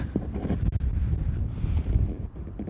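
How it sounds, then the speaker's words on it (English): Strong wind gusts buffet an outdoor microphone despite its windscreen, a loud, continuous low rumble with irregular surges and brief dips, no voices. "That's a big gust of wind."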